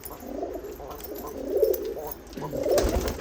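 Pigeons coo in a loft of racing and golden pigeons, with soft, throaty, rolling calls repeating close by. Several birds overlap and the calls swell in short bursts over a few seconds, with no talking.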